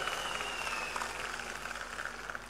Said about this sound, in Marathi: एकदा जोरदार टाळ्या माझ्या भारतीय जनता पक्षासाठी वाजवा